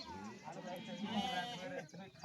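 Sheep and lambs bleating in heavy rain at a flock's camp, a few close wavering bleats overlapping with people talking nearby.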